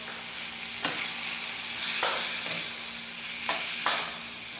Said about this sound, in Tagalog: Patuloy lang natin haluin